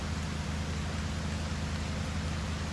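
Heavy rain in the video game Final Fantasy VII: Ever Crisis falls as a steady, dense hiss, continuous and even throughout with no voices.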